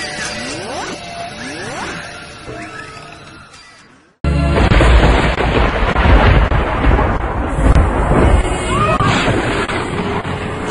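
A thunderstorm with loud rolling thunder and heavy rain, the first few seconds carrying a fading rumble before a sudden cut to a dense, roaring crash of thunder over pouring rain, with faint voices mixed in.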